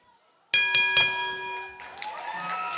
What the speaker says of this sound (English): And there's the bell for the first.